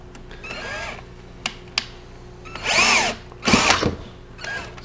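A power drill bores out a rivet head on the rack of a 2017 freeze dryer, with a few short whirring bursts and brief pauses, plus a couple of sharp clicks between runs.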